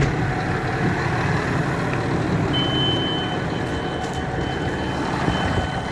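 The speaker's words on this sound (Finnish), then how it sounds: "se on ruvennut piippaamaan" A farm tractor with a front loader gives a thin, steady warning beep that sets in partway through, high and faint over the continuous rumble of the idling engine, with no one speaking.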